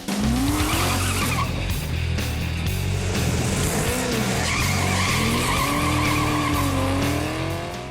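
A COPO drag car launches hard down a drag strip at US 43 Dragway, its loud engine roaring continuously with rising gear-change tones and tire chatter, close and sustained for the whole stretch.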